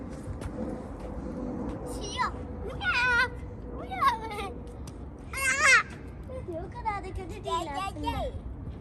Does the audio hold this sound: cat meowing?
yes